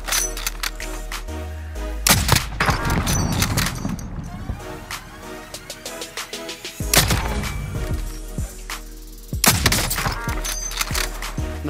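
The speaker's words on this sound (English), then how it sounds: "Nice, good shooting." Video game gunfire: several loud bursts of shots and blasts, with heavy volleys around the 2, 7 and 9.5 second marks, over a constant background of game music and effects.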